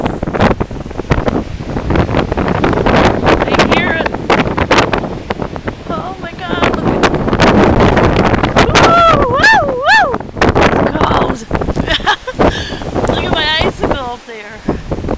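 Blizzard wind roars steadily through snow-laden trees beside a drifted driveway in Kenosha, a dense buffeting rush close to the microphone, with a person talking over it and a few whistling tones rising and falling.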